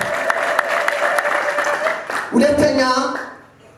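A church congregation claps in a burst of applause, loud and close, with voices rising over the clapping toward the end before it fades.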